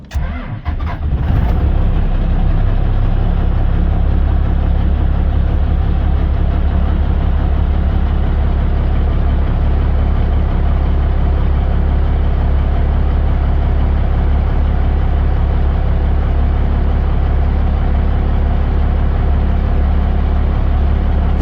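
A truck engine idling with the idle held slightly raised to warm the cab heater, a loud steady low rumble after a brief start-up burst at the beginning, continuing unbroken with no voices.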